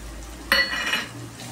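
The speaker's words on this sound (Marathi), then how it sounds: "1-2 मिनिटं असं हलवून घ्यायचं, चांगले गिजून झालं पाहिजे।" Masala stirred into fried onions in a pan for chicken curry: a single brief scrape and clink of the spoon against the pan, close by and lasting about half a second over a quiet background.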